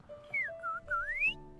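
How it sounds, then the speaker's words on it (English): A Genshin Impact character whistles a bright, clear melody of three rising and falling phrases, close and fairly soft, over quiet game background music. "She whistled."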